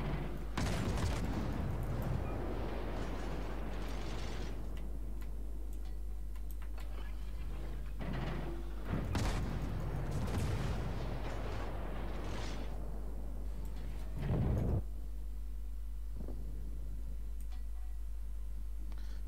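Enemy warship artillery salvos in the naval game World of Warships, heavy booming blasts and shell impacts landing in several clusters over a steady low engine hum, with someone talking over them.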